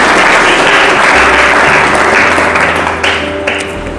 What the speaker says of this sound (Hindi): खुदा को महिमा दो ताली बजाते हुए।